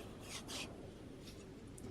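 Sanding a wooden piece by hand, a steady close rasping rub with a few brighter strokes repeating across a couple of seconds, alone without talk.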